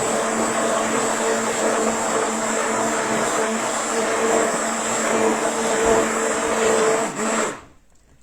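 An electric beater whirring steadily through a homemade soap mixture, a loud continuous motor whine held for several seconds before cutting off abruptly.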